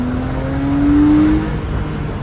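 A Porsche drives just after brake maintenance, its engine a steady hum that swells briefly mid-clip, with no squeal or voices.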